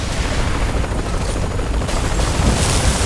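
In the video game Saints Row: The Third, a helicopter's loud, dense rotor roar fills the scene up close, steady and broadband, with heavy rumble and what may be gunfire mixed in.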